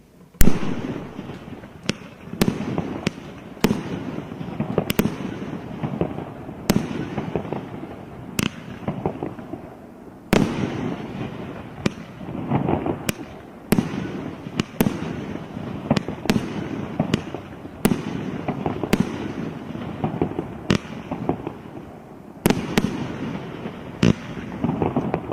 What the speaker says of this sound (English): So a new 21-shot 30mm barrage from Vivid.